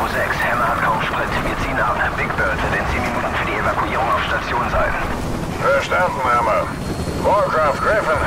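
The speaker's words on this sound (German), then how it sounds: "Dann weht der Hubschrauber erstmal alles weg." A helicopter in Call of Duty Modern Warfare Remastered roars in a steady, loud, constant rotor wash, with voices talking over it throughout.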